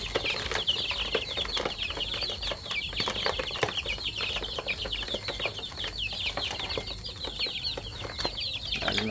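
A duck (itik) feeding and calling among other farm fowl. Busy, overlapping bright calls and clucks continue throughout at moderate distance, with occasional wing flaps and scuffling.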